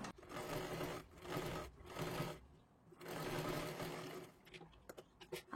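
A sewing machine stitches a blouse sleeve, running in several close, loud bursts of rapid mechanical whirring with brief pauses between them, ending in a few short clicks and no talking.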